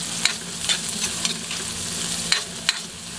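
Onions sauté in a pan for pancit canton with a steady sizzle, broken by a few sharp spatula scrapes and taps against the pan.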